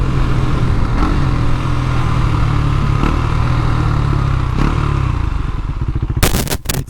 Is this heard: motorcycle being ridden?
yes